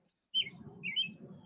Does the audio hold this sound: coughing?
no